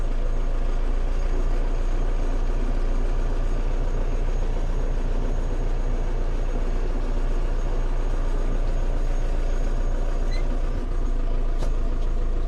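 A mini tractor engine runs steadily in low second gear, a loud, close, throbbing diesel drone with an even mechanical rumble and no break across the whole stretch.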